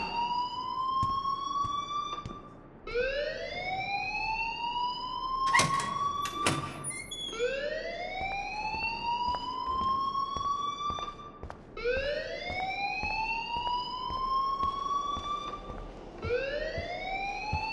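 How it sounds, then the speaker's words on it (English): A school alarm rings in the video game Life Is Strange, a loud, repeating rising electronic wail in long sweeps with brief gaps, joined midway by a short sharper burst. "please turn off that alarm since that's your job"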